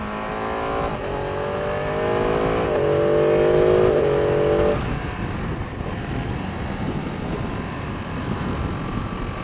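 A Ducati Panigale 959 motorcycle accelerates hard with its quick shifter, the engine note climbing in pitch through quick upshifts, loud and close, before settling into steady wind and road roar.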